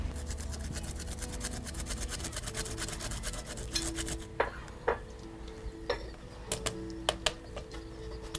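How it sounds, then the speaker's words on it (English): Fresh ginger scrapes rapidly against a kitchen grater in quick, rhythmic strokes, close and fairly quiet, followed by scattered light clicks and taps. "I will now need to grate some ginger"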